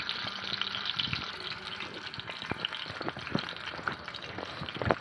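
Shelled eggs poured carefully into water for boiling, a steady watery splashing and trickling with a few small drips and plops, close and moderately quiet, no voices.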